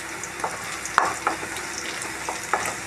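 Mustard seeds frying in a pan for a brinjal curry, with a steady sizzle broken by scattered sharp pops and spatters, close up with no talk.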